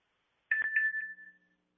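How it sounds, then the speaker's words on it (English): A short phone text message notification chime sounds once, a clear tonal ding with a brief double attack that rings out and fades within about a second amid silence. "I'm going to send the text message, and you're going to hear a little ding,"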